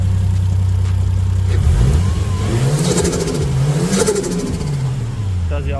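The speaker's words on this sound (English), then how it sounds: "classic flutter that everyone sort of loves when it comes to these sort of vehicles" A 1JZ-GTE engine in a Toyota Crown with a manual swap revs a few times, and each throttle lift brings a turbo flutter close by, with someone talking over it.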